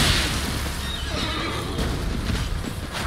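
A horse whinnies in Elden Ring over a busy background of hoofbeats and noisy game ambience, with no talking.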